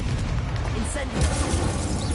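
A fiery Incendio spell bursts in the video game Hogwarts Legacy, a dense, sustained whoosh and crackle of flame under continuous game ambience, with a voice heard faintly.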